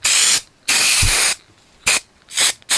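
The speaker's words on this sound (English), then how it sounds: "So I'll put some more mould release spray on this." Short hissing bursts of mould release spray from an aerosol can, applied to a Technics SU-3500 amplifier part: two long sprays, then three brief puffs, loud and close with no talking.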